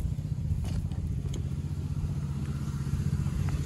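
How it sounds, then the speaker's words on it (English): Roofing work next door during a subwoofer install in a 2015+ Ford F-150, heard as a steady, continuous background rumble with scattered faint knocks and clatters, distant and unbroken throughout. "Sorry for the noise, my neighbors are getting a new roof."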